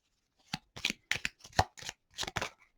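Witchy Lenormand pocket oracle deck shuffled by hand, a run of brisk riffling card bursts in quick irregular succession, close and clear with no talking.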